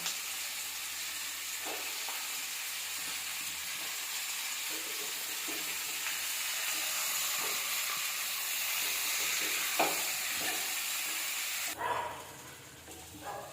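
Eggplant, onion and tomato sauté in a hot pan for a Tamil eggplant and field-bean kara kuzhambu, giving a soft, steady sizzle with occasional stirring clicks and scrapes. Near the end the sizzle drops away abruptly.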